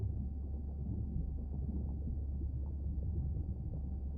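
Low, drawn-out whale calls in the underwater video game Beyond Blue, a steady moaning rumble filling the whole stretch with no voices over it.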